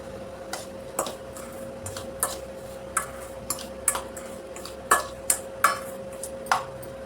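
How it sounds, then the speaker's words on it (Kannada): Ground peanut and rice mixture stirred by hand in a vessel gives a string of irregular light scrapes and clicks, fairly close and quiet, with no talking. "ಇದನ್ನ ಈಗ ಒಂದು ಪಾತ್ರೆ ಒಳಗೆ ಹಾಕೋರಿ ಹಾಕ್ಕೊಂಡು ಚಲೋ ಹೊತ್ನಾಗ ಮಿಕ್ಸ್ ಮಾಡ್ಕೊರಿ"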